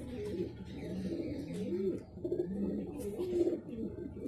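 A young Abloos Dobaj pigeon, a Madrasi breed, coos softly and close in repeated low, throaty phrases, with faint background noise and no talk over it.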